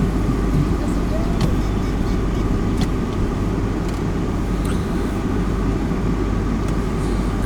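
A car drives slowly around an estate, a continuous low engine and road rumble heard from inside, loud and steady, with a few faint clicks and knocks.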